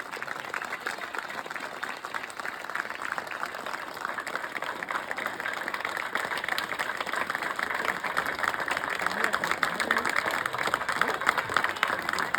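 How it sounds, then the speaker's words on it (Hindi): A crowd at a political rally in Chhattisgarh claps steadily and continuously, a dense patter of applause that holds even and builds slightly louder toward the end. "ताली कमजोर है यार, तुमन नहीं छूटे बरोबर ताली बजा।"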